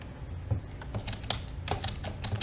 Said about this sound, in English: we're just going to start typing